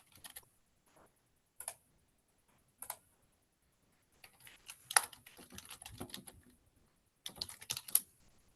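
Clicks of typing on a computer keyboard come in scattered short bursts, close and fairly quiet, with a longer run of keystrokes in the middle and no talking.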